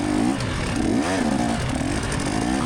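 A KTM two-stroke dirt bike with about 100 hours on the engine races in a GNCC event at Talladega, its engine buzzing and revving up and down continuously, loud and close.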